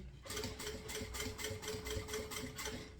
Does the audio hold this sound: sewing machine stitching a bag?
yes